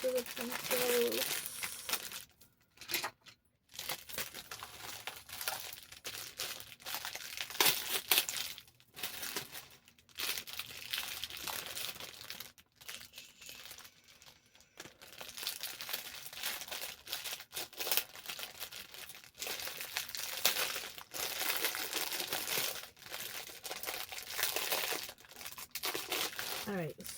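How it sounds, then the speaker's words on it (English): Individually wrapped gift items are unwrapped, their plastic and paper packaging crinkling and tearing in close, irregular bursts with short pauses, and a voice speaks intermittently. "Everything's individually wrapped, so let me get everything open."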